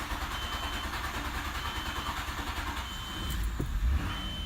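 A 1996 Nissan Maxima engine running just after a throttle body cleaning, a steady, close, slightly uneven mechanical drone that swells a little louder near the end.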